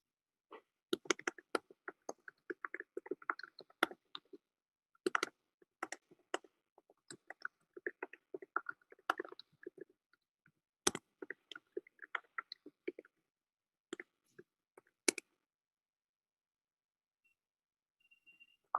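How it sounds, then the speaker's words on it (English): Quiet, irregular bursts of keyboard typing heard through a video call, clicking in clusters and pauses for about fifteen seconds before falling silent. "Quite soothing, the sound of someone typing over Zoom, I find."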